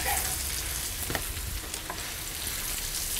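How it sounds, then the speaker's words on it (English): Pork sizzles in a pan heated to about 400 degrees for chow mein, a dense, steady crackling hiss with a few sharper pops, close and continuous with no voices. "So I'm going to put my pork in there"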